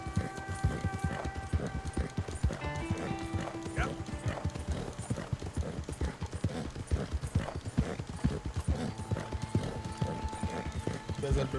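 Horse hooves clip-clopping in the video game Red Dead Redemption 2, a steady close rhythm of hoof strikes over game music, with an occasional whinny and some talk mixed in.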